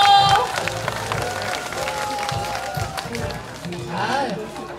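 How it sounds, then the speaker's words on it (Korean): Crowd applause and cheering at an outdoor folk market stage during a pumba performance contest, mixed with lively babble and voices throughout. "큰 박수 주십시오."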